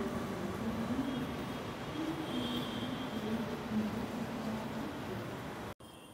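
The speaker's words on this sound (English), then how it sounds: "Alright, here we are in railway station." Steady rumbling train noise fills a railway station in Kerala, a continuous, fairly loud wash of rolling rail sound with no talk, cutting out abruptly just before the end.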